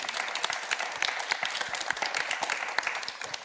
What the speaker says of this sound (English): Alexandra, that does deserve a round of applause, I think.